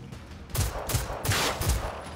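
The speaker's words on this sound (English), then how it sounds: "I shot that boy down" Video game gunfire: a rapid volley of loud, close shots in a few quick bursts over a low rumble, with no talk.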